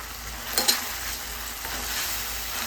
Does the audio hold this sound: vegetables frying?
yes